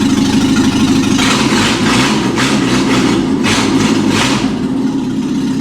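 A drift car's engine idles with a rough, steady mid-to-low rumble that stays loud and even throughout, with its warning lights on.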